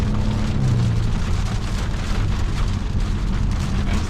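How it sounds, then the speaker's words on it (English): Heavy rain pours down on a 2023 Volvo V60 Cross Country during a drive, a dense continuous patter on the roof and large sunroof over the low rumble of the car, steady with no talking. "As the rain pours."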